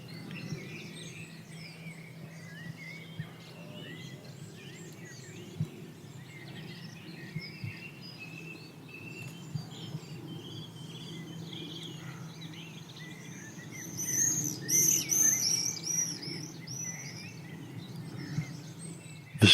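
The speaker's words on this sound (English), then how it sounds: "I've got to get some of this bird song" Birds sing in the Welsh outdoors, faint scattered chirps and warbles over a low ambient hum, with a brighter, louder flurry of song partway through.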